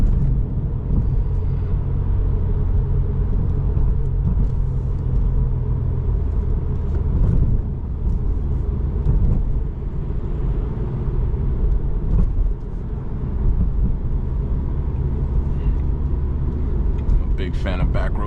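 A Subaru WRX cruises back roads at night in rush-hour traffic, with a steady loud engine and road rumble droning continuously from inside the cabin.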